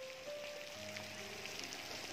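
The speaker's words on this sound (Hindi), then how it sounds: "एक नकली बरसात दिखाने ले जा रहा हूँ" Artificial rain fountain of the Sawan Bhado garden at Saheliyon ki Bari, Udaipur, a steady hissing patter of falling water, continuous and moderately loud, with a faint tonal hum underneath.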